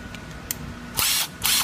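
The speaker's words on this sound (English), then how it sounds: "This is the best drill that I have ever owned in my life." A Makita power drill whirs in two short, close bursts, with a brief click before them and quiet pauses in between.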